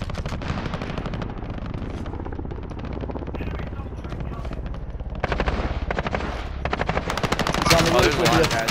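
Sustained machine-gun fire from an MG34 in the Call of Duty: Warzone video game, rapid continuous bursts running the whole stretch and growing louder near the end, with players talking over it.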